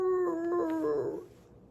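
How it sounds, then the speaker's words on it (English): A ranch dog gives a single close howl, a long sustained wail that bends and fades away within about a second and a half. "That's my Charlie howl"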